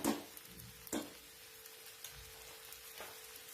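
Stuffed okra being stirred with salt in a pan, with a few soft scraping strokes over a faint, steady sizzle, quiet and close.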